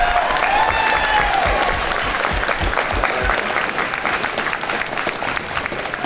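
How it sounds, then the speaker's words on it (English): An audience gives a big round of applause for members of an afforestation program community event, sustained dense clapping from a crowd filling the room at a steady level throughout. "please join me in a round of big applause for those members"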